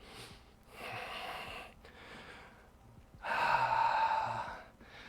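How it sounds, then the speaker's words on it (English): Deep breaths during a yoga session: a long, airy inhale, a pause, then a louder, stronger breath, close to the microphone and with no talking. "Breathe in deeply."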